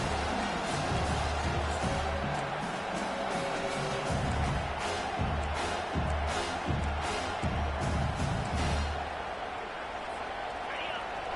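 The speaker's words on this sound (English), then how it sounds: "This crowd, full throat, splitting the eardrums and letting them know it's going to be a long day." At a college football game in a stadium, a dense crowd roars and cheers continuously, loud and sustained throughout, with a voice talking over it.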